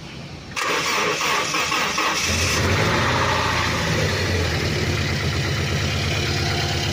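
A Toyota Innova engine cranks briefly, then catches and starts, settling into a steady, loud running rumble close by.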